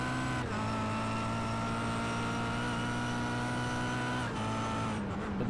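Touring cars racing at Hockenheim in the European Touring Car Championship, a loud steady engine drone with constant pitch, held near and continuous throughout with no talk.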